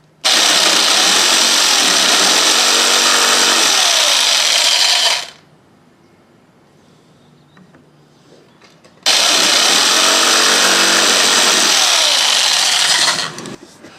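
A jigsaw cuts into a hard plastic grass-deflector flap for a Toro Grandstand mower, loud and harsh, running in two bursts of about five seconds each with a quiet pause between them.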